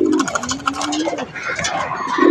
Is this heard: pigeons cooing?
yes